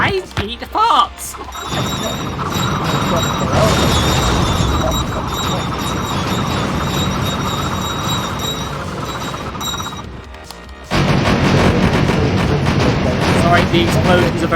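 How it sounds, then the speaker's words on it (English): Video game Tonight We Riot fills the scene with loud explosions and crashing impacts. A dense, continuous wall of blasts and smashing clatter runs throughout, with a sharp burst at the start and another surge near the end. "Sorry, the explosions are very loud and I cannot hear a word you're saying."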